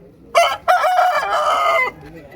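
A rooster at a poultry market crows loudly and close by, one long strident call after a short opening burst.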